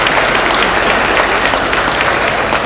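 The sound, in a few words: applause for firefighters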